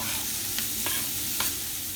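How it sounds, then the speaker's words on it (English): Steady, dense sizzling of chopped vegetables frying in a pan for a sausage casserole, with a few light clicks of stirring scattered through. "we're going to fry these for about 5 minutes until they have softened up"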